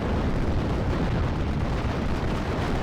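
Continuous heavy rumbling and booming from gunfire and explosions in the Steel Division: Normandy 44 battle at Cheux, with Pak-38 anti-tank guns engaging Stuart tanks, a dense, unbroken roar with no clear separate shots.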